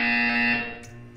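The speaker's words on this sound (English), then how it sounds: "You will hear a buzzer." A loud, steady electronic buzzer from the video game Portal 2 sounds alone, holding for about half a second before fading and trailing off.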